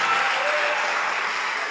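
A church congregation applauds during a Portuguese-language sermon, with steady, dense clapping that fills the whole stretch at close, even loudness.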